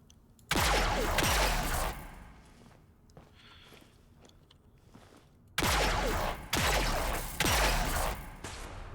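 Gunfire in Fallout 4 comes as loud, sharp bursts, one near the start and a cluster of three at the end, with quieter rustling and movement between them.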